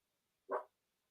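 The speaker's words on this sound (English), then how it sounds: "Sorry, she's barking." A dog gives one short, single bark at a moderate distance, fairly faint, with quiet before and after and no talking.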